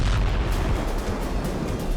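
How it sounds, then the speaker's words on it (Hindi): Explosion near the Kerch bridge in Crimea heard as a continuous deep, heavy rumble with a dense low boom, loud and sustained throughout. "धमाके से कर्च ब्रिज और कई मील दूर तक इलाका दहल उठा।"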